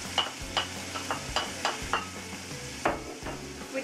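Chicken fries in a pot on a medium-high flame for gumbo, with a constant close sizzle broken by regular scraping stir strokes and light metallic clinks, and no voice.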